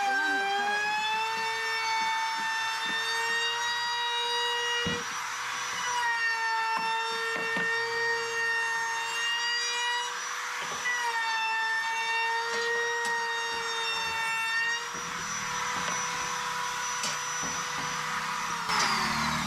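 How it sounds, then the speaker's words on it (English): A palm router whines steadily as it works wood during a twin-bed modification inside a Roadtrek camper van, a loud, high, sustained tone with brief dips and changes in pitch as the cut moves along. "She's fluent on the palm router now."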